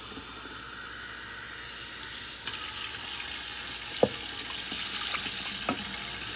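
Steady running water pours into a pot for cooking rice, a continuous hiss with a few faint clinks of metal partway through.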